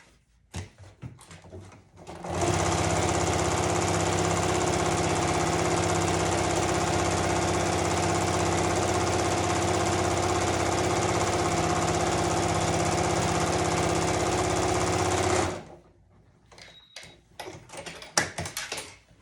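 Sewing machine stitching down the folded edge of a boxy bag, a steady loud mechanical whir running unbroken for about thirteen seconds, with soft handling clicks and rustles before and after.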